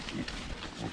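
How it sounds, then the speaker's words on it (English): Pigs on a farm grunt and snuffle close by in a short, steady burst of low grunting with no talk over it. "this is the pigs"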